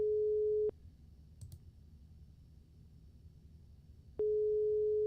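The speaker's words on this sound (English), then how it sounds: "Can y'all hear that ringing?" A telephone ringback tone while a call is being placed: two steady electronic tones, one at the start and one near the end, separated by a long quiet gap with faint room noise and a brief click.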